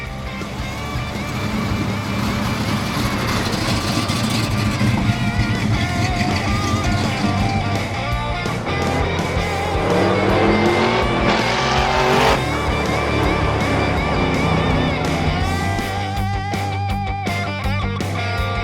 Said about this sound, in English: So you want to drive the Buick in the back?